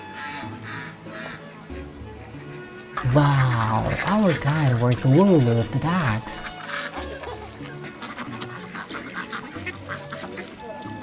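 A group of ducks quacks loudly in nasal, rhythmic bursts near a cafe on a walking tour in Cappadocia, Turkey, the calls clustered in the middle and mixed with people talking before and after.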